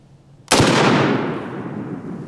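A single loud, close pistol shot cracks over a chronograph and trails into a long echoing outdoor decay.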